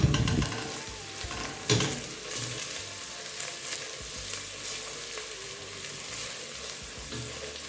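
Onions frying in a pan with cumin seeds, curry powder and turmeric give a steady, close sizzle, broken by a few louder stirring scrapes and spatters.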